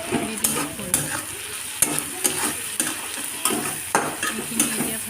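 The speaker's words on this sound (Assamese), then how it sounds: "এইখিনি এতিয়া ভালদৰে লৰাই দিছোঁ" Dried fish chutney fries in a pan on a gas stove and is stirred, giving a steady close sizzle broken by regular scraping strokes of the spoon, with no talking.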